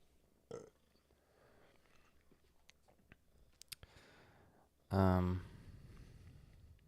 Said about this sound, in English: sorry, I'm like burping